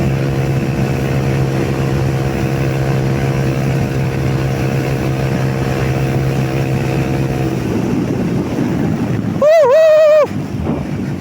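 A modified Yamaha YBR motorcycle cruising at about 115 km/h, heard as a steady engine drone under heavy wind rush, followed near the end by a brief rising and falling whine.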